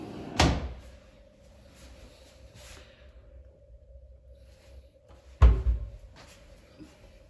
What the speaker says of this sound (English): Can't get these drawers open.